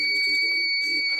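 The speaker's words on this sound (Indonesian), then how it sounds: "dapat dilihat tadi ada buzzer juga aktif" A microcontroller fire alarm and temperature detector buzzer emits a steady, piercing high electronic tone throughout, loud and close, while people talk over it.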